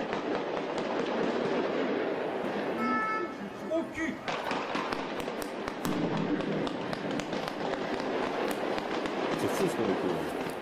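Stun grenades and heavy gunfire during a police hostage rescue in Paris, sharp overlapping bangs and cracks in a dense, chaotic barrage over crowd noise, with voices talking throughout.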